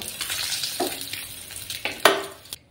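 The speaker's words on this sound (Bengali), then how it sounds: "আরও একটু সময় ভাজবো ডিমগুলোকে, একটু কড়া করে ভাজলে খেতে ভালো লাগবে।" Eggs fry in hot oil in a pan, giving a steady close sizzle broken by a few louder spatters and stirring scrapes, with no talking.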